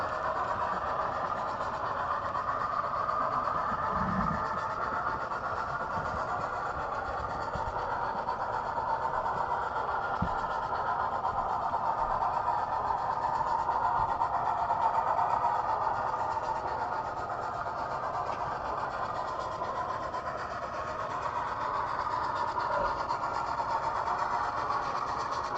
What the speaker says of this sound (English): Such a nice looking locomotive.